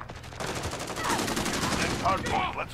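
Rapid automatic gunfire from the video game Modern Warfare rattles in fast, continuous bursts at a moderate level, with no pause across the short stretch.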